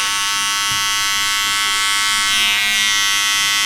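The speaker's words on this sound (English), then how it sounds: "So I'm going to use this clipper because the blade's sharper and it's a little lower" An electric hair clipper with a sharp blade buzzes steadily and loudly up close while trimming a haircut line on a textured top fade, with a slight change in tone partway through.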